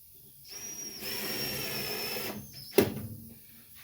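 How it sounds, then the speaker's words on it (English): A cordless impact driver whirs for about two seconds, driving plastic screws on a Ryobi 18-volt 16-inch electric push mower, then stops with a short knock. The sound is fairly quiet and close. "I'm gonna get some hate mail for using the impact on plastic"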